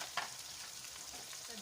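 Potatoes and chicken stirred together in a pan for chicken pulao, giving a soft, steady scrape and sizzle with a brief louder clink near the start, fairly quiet and with no talking.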